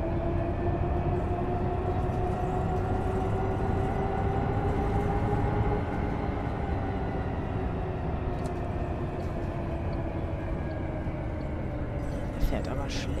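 Interior drone of a MAN eMobility A37 electric bus on line 13 in Berlin-Spandau, a steady motor whine with a slowly shifting pitch under continuous road rumble, with voices talking faintly.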